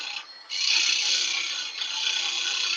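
A wood tenon is cut on a lathe with a parting tool, giving a close, steady rasping scrape that dips briefly and then holds as the blade bites into the spinning wood.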